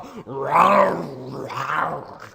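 A voice imitates a dragon roar with two drawn-out, rising and falling growling roars, close and loud, the second slightly weaker than the first.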